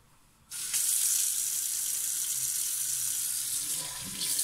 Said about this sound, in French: vous mettez de l'eau tiède pour rincer